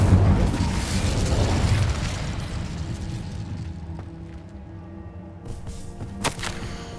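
Incendio fire spell cast in Hogwarts Legacy, a loud broadband burst that roars up at once and slowly fades into a lingering rumble, with a small sharp pop near the end.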